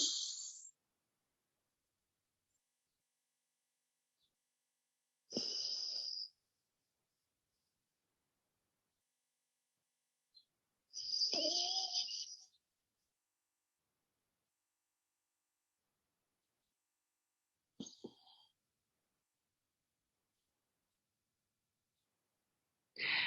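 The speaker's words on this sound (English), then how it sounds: "Breathe in through the left nostril. Block the left nostril, breathe out through the right." Slow, deliberate breaths drawn and released through the nostrils during alternate nostril yoga breathing, several soft airy bursts a few seconds apart separated by silence.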